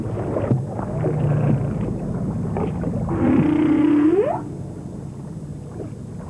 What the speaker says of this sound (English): 18 years ago, Flip and his father Chuck became the first people to dive down to a singing whale.